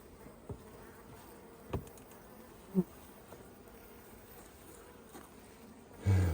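Faint, steady buzzing of honeybees hums in the background, with a few soft knocks and a brief louder bump near the end.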